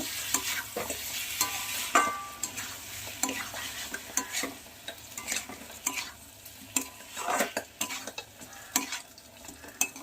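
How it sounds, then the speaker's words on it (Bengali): Raw rice and boiled potatoes are stirred in a hot pan, with busy scraping and clattering of a spoon against the metal over a soft, constant sizzle. "চাল দিয়ে দিয়েছে, ভালো করে নেড়ে চেড়ে নেব।"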